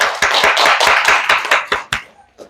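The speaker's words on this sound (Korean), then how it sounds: "하나님께 영광의 박수 드리겠습니다." A church congregation at a Sunday worship service gives a short burst of rhythmic clapping, distinct sharp claps in a quick run that slows and stops after about two seconds.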